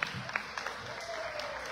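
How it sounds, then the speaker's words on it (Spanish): Applause from an audience at a live marimba dance concert, a brief, fairly faint patter of clapping with a voice briefly over it. "aplauso para todos ustedes"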